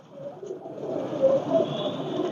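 A Pakistani breeder pigeon cooing close by, a soft, low, rolling coo that continues through the short moment against a quiet background.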